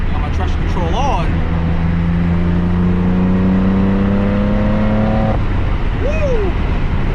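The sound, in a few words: BMW M4 with AWE SwitchPath exhaust accelerating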